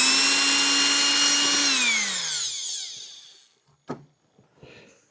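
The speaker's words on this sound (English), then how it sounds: "just double check and make sure you got all the screws out" A power drill removing screws from an RV refrigerator cover whines loud and close, then winds down as the motor slows to a stop, followed by a short clack and faint handling noises.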